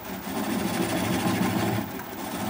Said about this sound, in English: I'm going to slow the speed down to about 400 RPM